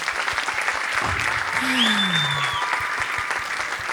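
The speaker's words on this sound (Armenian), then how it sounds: "ձեր ծափարությունները նրան։" Steady applause from a comedy show audience fills the clip, with a faint whistle-like tone sliding through the middle.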